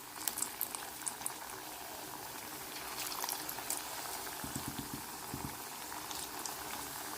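Thekua dough pieces bubble in hot oil, making a faint, continuous frothy bubbling with a few soft thuds partway through as more pieces drop in.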